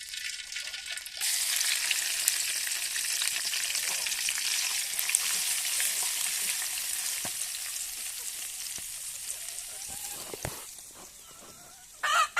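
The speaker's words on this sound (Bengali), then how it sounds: "এই যে মাছ ভাজা তেলের মধ্যে পেঁয়াজ রসুন আর জিরা ধনিয়া বাটা দিয়ে দিলাম" Onion, garlic and cumin-coriander paste sizzling hard in oil left from frying fish on a village clay stove, a dense continuous hiss close by that fades slightly toward the end.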